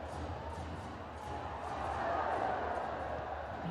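A stadium crowd at the Nam Dinh vs Ratchaburi AFC Champions League Two football match keeps up a broad, distant roar with rhythmic chanting and a slight swell, heard under a commentator's voice.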